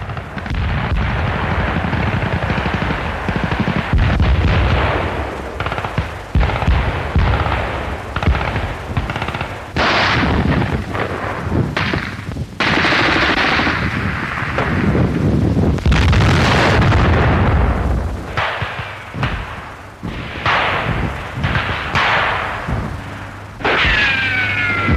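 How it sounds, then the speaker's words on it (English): Heavy wartime combat on a winter front in the east, with sustained bursts of machine-gun fire and repeated booming explosions, loud and near, continuing without pause and with no voices. "Enemy explosions."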